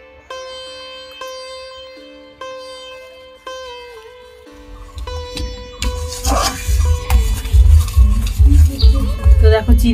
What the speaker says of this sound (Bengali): চিনি আর ঘিটা দিয়ে ভালো করে মিশিয়ে নিয়েছি